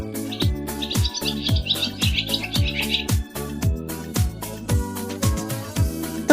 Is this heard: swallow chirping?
yes